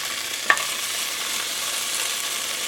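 Meat sears in hot oil in a pot for Irish stew, a steady close hiss of frying with a single sharp stir or scrape near the start, no voices.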